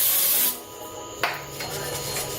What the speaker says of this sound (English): use brake parts cleaner and a wire brush to clean this off right there